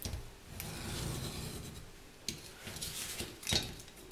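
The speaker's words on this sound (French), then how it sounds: "Avec la règle, on va couper comme ceci." Scissors or a blade cutting paper along a ruler, a soft continuous rasping scrape with a few brief ticks, close and quiet with no talking.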